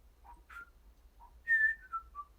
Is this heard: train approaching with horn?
no